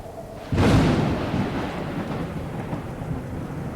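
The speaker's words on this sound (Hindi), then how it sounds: "बिजली कड़की, पेड़ हिलने लगे। बारिश शुरू हो गई" A sharp crack of thunder bursts in, then rolls into a steady roar of heavy rain that keeps pouring.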